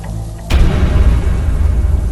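A sudden loud bang cuts through quiet, then a dense low rumble and noisy aftermath lingers for well over a second.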